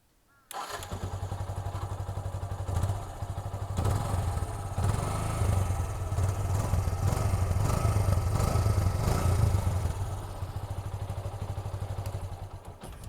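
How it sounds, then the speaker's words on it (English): A stock 2012 Yamaha FZ motorcycle engine starts and runs steadily, its exhaust rumbling close with a throbbing idle and slight clatter, no talking. "the sound that comes from this exhaust is really good"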